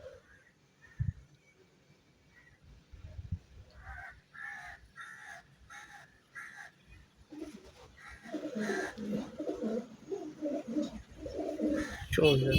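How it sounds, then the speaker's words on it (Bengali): Pigeons coo softly in repeated low phrases at first, then a denser, louder burst of bird calls and rustling builds toward the end, with some faint voices in the background. "আর একটা পায়রা দেখাচ্ছি এই একটা পায়রার এই ফেদার ফেদার দেখুন"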